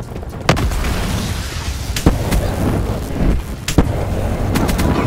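Loud continuous roaring blast noise with several sharp cracks punctuating it, dense and close like a heavy explosion in the game Call of Duty: Black Ops 4.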